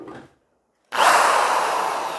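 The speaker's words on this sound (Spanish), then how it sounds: "yo no le tengo pánico al taladro" An electric power drill starts abruptly after a short pause and whines steadily for over a second, close and loud, following a brief earlier burst of sound.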